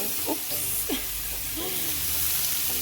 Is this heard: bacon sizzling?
yes